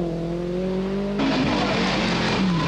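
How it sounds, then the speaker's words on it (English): An Audi Quattro rally car with engine trouble, spitting exhaust flames on the first stage of the 1983 Tour de Corse. A loud, close engine drones and then surges sharply into harder revving partway through. "Michel Mouton's Quattro spits flames from the exhaust, and even on this first stage, she has engine trouble."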